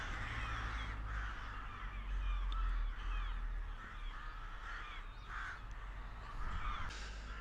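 Crows cawing repeatedly and raucously from their nests in St. Margaret's Churchyard, Rottingdean, several birds calling back and forth over a low wind rumble.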